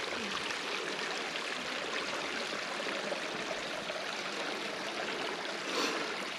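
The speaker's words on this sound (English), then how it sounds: "all the wee streams run into the loch and it fills up" Small streams flowing into a loch on a walk at Beecraigs Loch, a steady, even rush of running water, continuous and fairly close with no voices.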